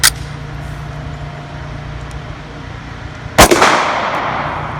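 Two loud pistol shots of Federal HST 147-grain subsonic rounds, fired over a chronograph, the first sharp crack right at the start and the second a few seconds later with a lingering echo, over steady low outdoor hum.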